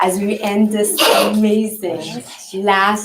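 A single sharp, breathy sneeze bursts out in the middle of someone speaking at a New Year's Eve welcoming gathering at a well-being center, close and fairly loud, with talking continuing before and after it.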